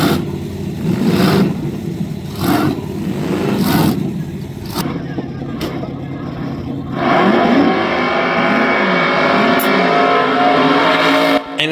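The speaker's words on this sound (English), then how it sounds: "this truck is just awesome. It just lays down rubber harder than anything I've ever seen before." At the SEMA show, a roughly 500 hp Barbie-themed truck revs its engine hard while laying down rubber, with loud repeated surges of engine roar followed by a sustained high-revving burnout wail, close and dominant throughout.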